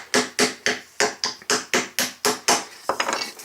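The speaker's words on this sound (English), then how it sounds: "So I'm going to use my little hammer because," A small hammer punches holes in a thick-walled metal can, about a dozen sharp, evenly spaced metallic strikes close up, ending in a quicker ragged flurry, with no talking.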